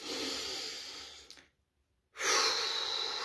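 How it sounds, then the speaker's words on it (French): Slow, deep breathing, with a long airy breath that fades into a second or so of silence before a strong fresh inhale or exhale resumes, close and alone without talk. "prendre le temps de respirer un petit coup là"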